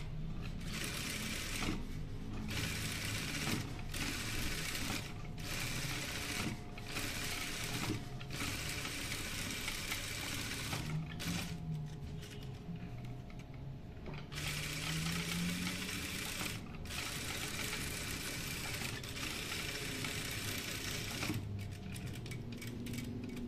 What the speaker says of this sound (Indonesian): tinggal dijahit di sekeliling pinggiran lapisan sakunya